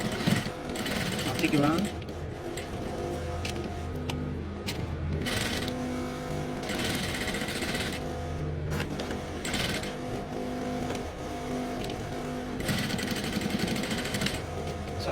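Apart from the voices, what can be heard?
sewing machine top stitching around an invisible pocket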